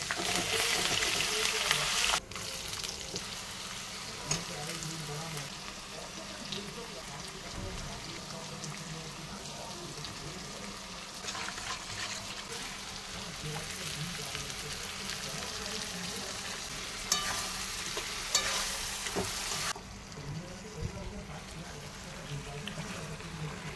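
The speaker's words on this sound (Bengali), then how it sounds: "মাংসটা কষা কষাই করবো, অল্প জল দেবো সেদ্ধ হওয়ার মতো, একদম শুকনো শুকনো করবো।" Broiler chicken meat is being dry-fried with only a little water, a continuous sizzle and crackle at moderate level that carries on throughout, with someone talking over it at times.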